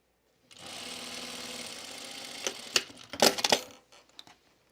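A sewing machine with a shortened stitch length runs steadily over the elastic ends of a dress for about two seconds, then breaks into short uneven bursts and clicks as the fabric is handled.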